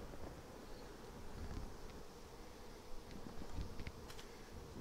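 Honeybees buzz in a soft, steady hum while being moved from a nuc into a ten-frame hive box, with faint wind in the background and no talking.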